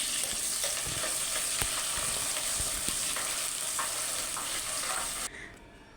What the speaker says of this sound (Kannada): ಹಂಗಾಗಿ ನಾನು ಈರುಳ್ಳಿನ ಮತ್ತು ಮೆಣಸಿನ್ಕಾಯಿನ ಮೊದಲಿಗೆ ಹಾಕ್ಕೊಂಡು ನೀಟಾಗಿ ಫ್ರೈ ಮಾಡ್ಕೊಳ್ತಾ ಇದ್ದೀನಿ